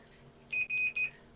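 Three short, high-pitched electronic beeps in quick succession from a Fluke 77-IV multimeter, clear against a quiet background.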